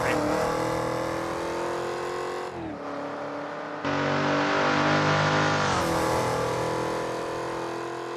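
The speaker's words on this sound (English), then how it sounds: "Smith, the leader, in his number 3 Mustang, as he comes through the S's for the final time" A Mustang saloon race car in the British Saloon Car Championship on Assetto Corsa howls loudly through a series of bends, its engine note dropping on a lift and climbing again under full throttle toward the finish.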